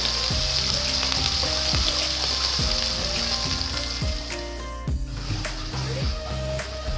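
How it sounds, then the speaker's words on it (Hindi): Onions sizzle and fry steadily in hot oil in a pan, browning to light brown for a chicken yakhni soup, with a continuous close hiss and occasional soft stirring scrapes throughout. "प्याज को हम लाइट ब्राउन कर लेंगे।"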